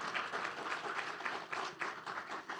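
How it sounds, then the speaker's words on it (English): Audience at a family research conference applauds the organizers, a steady wash of many hands clapping at moderate level, alone with no talk over it. "I think everyone there, please, round of applause."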